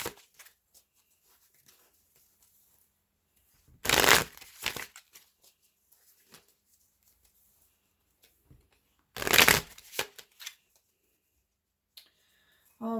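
Gilded Tarot cards are shuffled in two brief riffling bursts several seconds apart, crisp and close, with near silence and small taps between them.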